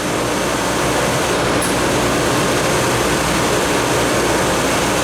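A refrigeration compressor runs during a hot-gas cycle, giving off a loud, unbroken mechanical roar with a steady low hum underneath and no pauses or speech.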